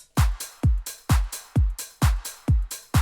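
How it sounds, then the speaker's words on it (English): A punchy kick drum thumps in a steady four-on-the-floor beat, with crisp claps snapping on the offbeats, loud and close. "And then you add the claps."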